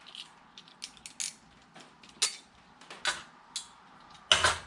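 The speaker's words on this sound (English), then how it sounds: "you have to pull this set of bolts out. Just pull them out like so." Bolts are pulled one by one from a cover on a barn elevator, giving faint scattered metallic clicks and scrapes with quiet gaps between, a sharper clank near the end.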